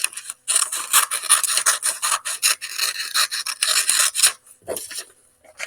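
Scissors cutting a folded paper square in half along a crease, a rapid series of close, crisp snipping and rasping strokes with brief pauses, trailing off near the end.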